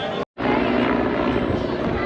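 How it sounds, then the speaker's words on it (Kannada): Continuous whirring roar of a helicopter passing over the Maha Kumbh Mela, steady and fairly loud, following a brief cut to silence at the start. "ನೀವು ನೋಡ್ಬೋದು ಹೆಲಿಕಾಪ್ಟರ್ ಹೋಗ್ತಿರೋದು"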